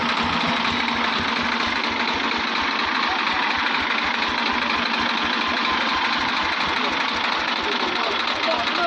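A Powertrac 445 tractor loaded with firewood at a weighbridge, its diesel engine running close and loud with a steady rumbling knock throughout, while a voice talks over it.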